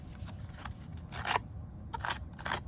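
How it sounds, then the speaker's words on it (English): Sharp scissors snipping around the edges of black card stock for a stamped paper craft, a few quiet, crisp cuts spaced apart with brief pauses between. "Just watch your hands with the scissors because they're sharp."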